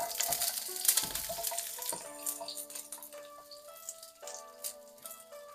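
Onion frying in a wok for beef in black bean sauce, a soft steady sizzle with scattered clicks and scrapes of stirring, fairly close and moderately loud, no talking.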